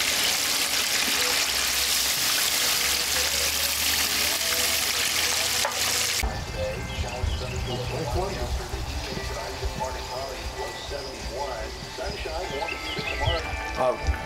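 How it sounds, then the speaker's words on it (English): Steady hissing and crackling of fish frying in hot oil, loud and continuous, with a voice speaking over part of it. "we're just getting ready to fry what we caught this morning"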